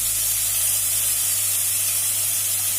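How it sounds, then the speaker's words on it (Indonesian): Beef pieces for empal sengkel hiss steadily as they drop into a hot pan, a loud, broadband continuous sizzle lasting about three seconds with no talk. "setelah bunyi kus baru kita masukkan si daging-dagingnya ke dalam panci"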